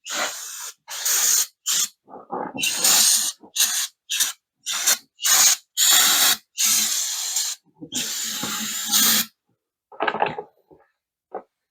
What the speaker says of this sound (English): we'll go ahead and blow that off just so we can hear that compressor again